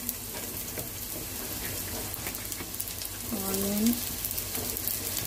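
Sliced onions frying in hot oil for egg biryani give a constant crackling sizzle, close and fairly loud, with faint stirring and a brief scrape partway through.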